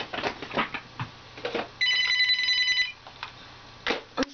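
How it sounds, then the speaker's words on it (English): A household telephone gives a single electronic ringing burst of about a second, loud and near, framed by scattered knocks and handling noises in a quiet room. "That would be my phone."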